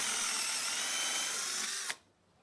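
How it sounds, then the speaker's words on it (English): A power drill boring a hole in pallet wood with a deep countersink bit, a loud, steady high-speed whine that holds for about two seconds before cutting off sharply. "Then drill the holes."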